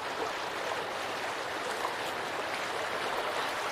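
Creek water flowing in the survival video game Sons of the Forest, a steady close rushing babble with no pauses, heard alone.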